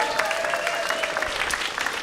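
An audience at a live musical stage show in a library claps steadily, a dense, even patter of many hands in a moderately sized room.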